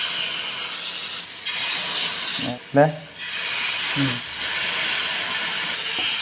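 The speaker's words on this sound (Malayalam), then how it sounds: "എണ്ണ തിളച്ചിട്ടുണ്ട്, ഇനി മീനിടാൻ പോവാണ്." Catfish frying in a pan of boiling oil while a curry is being made, giving a steady, loud sizzling hiss that runs through the whole stretch, with brief speech over it.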